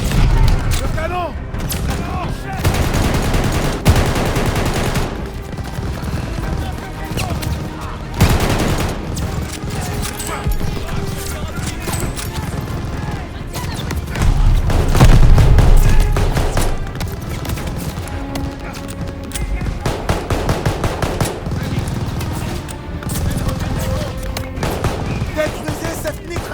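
Machine gun fire rattles in Call of Duty Vanguard amid repeated booming blasts and heavy explosions. Loud, dense bursts continue through the whole stretch, with voices talking over the battle.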